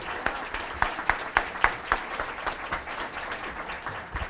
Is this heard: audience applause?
yes